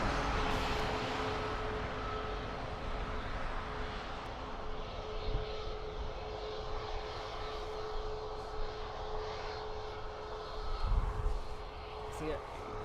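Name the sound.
Ryanair airplane taking off at Dublin Airport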